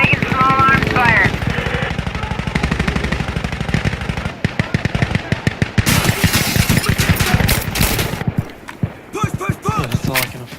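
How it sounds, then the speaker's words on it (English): Small arms gunfire in a video game, dense rapid crackling shots and bursts running nearly continuously with brief pauses, loud and close, mixed with other game noise and voices. "Taking small arms fire."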